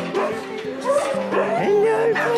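A dog yips, barks and whimpers excitedly up close, with rising and falling whines in a rapid, eager run.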